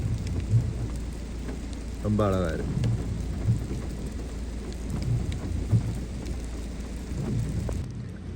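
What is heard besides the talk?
rain falling outdoors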